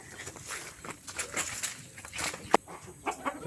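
Several chickens cluck and call around a rural yard, scattered bursts at moderate distance with a sharp knock partway through and little talk.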